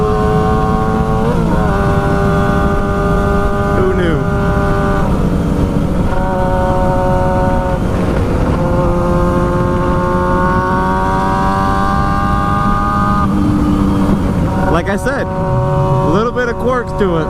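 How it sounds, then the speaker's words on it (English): A motorcycle engine runs steadily and loud close by, a sustained droning hum with slight pitch shifts and a burst of revving near the end, with wind buffeting and a voice partly audible underneath. "you need to be in neutral to start the bike"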